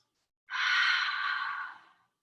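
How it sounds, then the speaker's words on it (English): A single deep, audible breath during a yoga sun salutation sequence, one smooth airy exhale lasting about a second and a half, close and fairly loud, with no talking. "And now find that belly breath."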